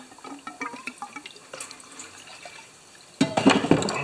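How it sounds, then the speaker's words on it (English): Gasoline pours into the fuel tank of a Honda EB2200X generator, a soft trickling and dripping that turns into a louder gush of liquid in the final second. "Pour some gas in there."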